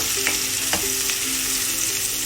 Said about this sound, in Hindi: इसमें अभी मैं ये अनियन ऐड कर रही हूँ। फ्लेम को मैंने हाई ही रखा हुआ है।